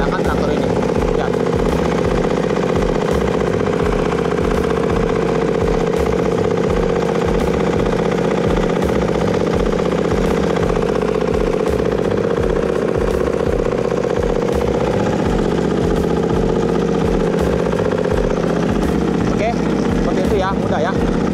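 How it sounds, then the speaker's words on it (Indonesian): An FCT25 crawler tractor engine runs loud and close with a steady rhythmic chug and clattering tracks as it turns 180 degrees on extreme ground. "saya akan bermanuver 180 derajat menggunakan traktor ini"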